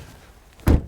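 A frameless door on a used VW Arteon 2.0 TDI swings shut with a single solid thunk, close and loud after a quiet moment, with no talking over it.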